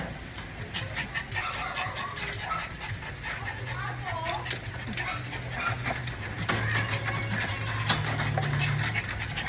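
A big dog whimpers and yips softly in short, high, uneven whines, close by, mixed with panting and other small noises while a person talks to it.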